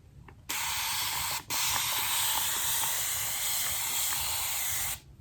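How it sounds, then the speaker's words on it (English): A hand spray bottle mists water onto hair in two close, steady hissing bursts, the first about a second long and the second much longer. "I'm just going to mist it enough to where it's just manageable"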